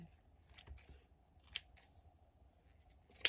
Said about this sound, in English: Trim the edges